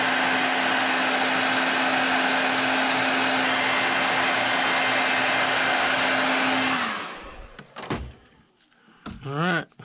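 A heat gun blows hot air over paint on a fishing lure, a loud, steady whirring rush with a faint hum that runs for several seconds, then cuts off, leaving a few light handling sounds.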